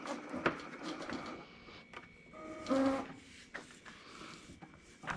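A Titan window tinting plotter makes a test cut in tint film backed by 10 mil tape, giving quiet mechanical whirring and short scraping motor runs with small clicks. No one speaks.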